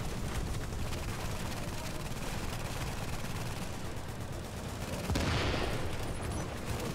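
Steady, muffled barrage of gunfire aimed at a sentry gun in The Division, continuous and fairly faint throughout with a brief louder swell near the end.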